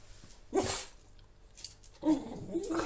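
A dog gives two short, sharp bark-like outbursts a second and a half apart, fairly close but quiet, with faint small noises between.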